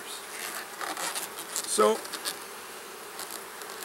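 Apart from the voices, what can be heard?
honey bees buzzing at hive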